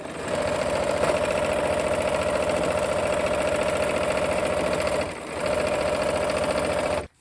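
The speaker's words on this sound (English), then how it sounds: "So I'm going to sew this on" A sewing machine steadily stitching quilt pieces onto a basket section, a loud continuous mechanical whir with a rapid needle rhythm, briefly easing off near the end before resuming and stopping.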